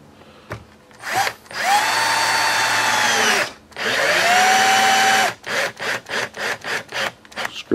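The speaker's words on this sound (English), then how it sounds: "Screw it down till it's just snug." Power drill driving a screw down snug on a Team Chase steering link for a Losi 5ive, with two long whirring runs followed by a rapid series of short bursts as the screw seats, loud and close with no talk.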